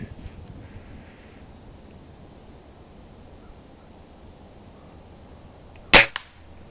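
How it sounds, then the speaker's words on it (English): A Beeman dual caliber air rifle fires a single sharp, loud shot at an orange target after a stretch of quiet outdoor background noise. "We'll do another shot here."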